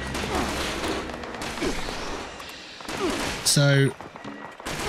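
Gunfire in the Fallout 76 video game crackles in bursts of shots and impacts, with a louder mechanical burst near the end, all under someone talking over the game.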